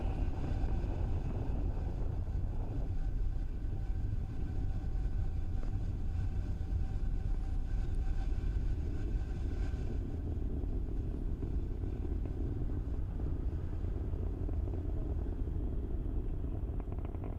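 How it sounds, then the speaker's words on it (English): SpaceX Falcon 9 rocket carrying BlueWalker 3 and Starlink satellites during launch ascent, a steady, loud, broadband low rumble that holds throughout, with a roaring wind-like hiss and no voices. "What you are seeing on your screen is Falcon 9 accelerating AST SpaceMobile's BlueWalker 3 and our Starlink satellites into space."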